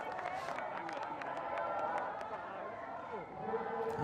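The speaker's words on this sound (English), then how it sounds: "The German camp there giving them a good old cheer." Crowd of German supporters cheering along the course at a Beijing 2022 para cross-country skiing sprint race, a steady roar of voices with a sports commentator talking over it throughout.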